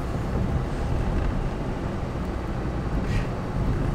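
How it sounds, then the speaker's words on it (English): Wind blows outdoors on a bitterly cold winter day in Galena, Illinois. A steady, broadband rushing roar buffets the microphone, with no talking. "there's a wind that makes it feel like almost 10 below outside"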